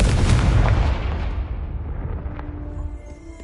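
A Confringo fire spell bursts in the Hogwarts Legacy video game, a loud, deep explosion with a long rumbling decay that fades over a few seconds, with no talk.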